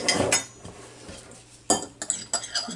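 A spoon clatters and scrapes against a bowl while mixing egg salad with pickles, in quick bursts of close clinks and knocks separated by softer stirring.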